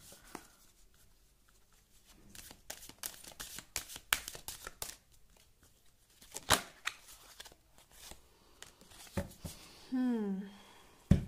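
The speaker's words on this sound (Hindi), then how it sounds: "let me pull out more cards for you guys." Tarot cards are shuffled and drawn from a deck in a series of close, crisp riffles and slides, with short pauses and a brief voice near the end.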